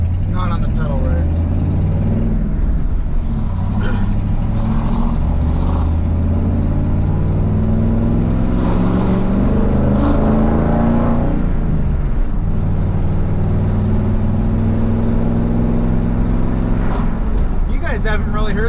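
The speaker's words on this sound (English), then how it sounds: "Haven't really heard this thing drive down the road with the new side pipes and my header leak." A car with new side pipes and a leaking exhaust header drives down the road, its engine droning and rising steadily under close, near-constant talking from inside the vehicle.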